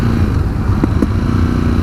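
A 2019 Ducati Scrambler 1100 exhaust rumbles steadily while the rider changes down and comes off the throttle, with a couple of short sharp pops standing out over the continuous engine and wind noise.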